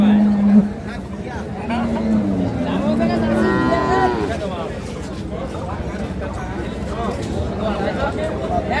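A cow at the Ambari cattle market moos loudly in a long, wavering call, rising and falling over a few seconds amid steady market crowd noise and nearby voices.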